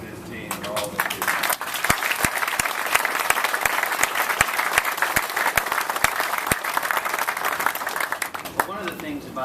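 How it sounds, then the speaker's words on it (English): A big round of applause at a data center ribbon-cutting ceremony, with steady clapping from the gathered audience and individual sharp claps standing out over the murmur of voices. "let's give one more really big round of applause, huge, for Bruce and his team"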